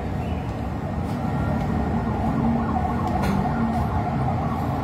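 A fire truck siren wails steadily in the distance at a fire in Dahlia, Fairview, its tone holding beneath a low background rumble, with no talking.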